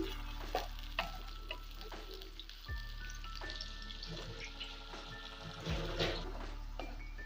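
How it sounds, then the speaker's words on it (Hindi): Onions fry in hot oil with a low, steady sizzle, broken by occasional stirring clatters and a faint background hum. "अब मैं इसमें प्याज शामिल कर रही हूँ। अब मैं प्याज को ब्राउन कर दूँगी।"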